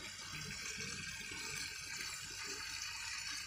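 Water poured into a prawn and potato curry in a cooking pot, a steady liquid pour with gushing, splashy texture that runs continuously throughout, close up and without any talking.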